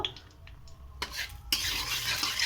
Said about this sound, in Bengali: লঙ্কাগুলো লাল লাল করে একটু ভেজে নেব।